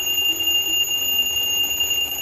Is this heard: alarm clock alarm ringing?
yes